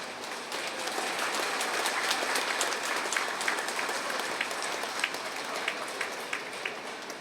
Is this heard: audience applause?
yes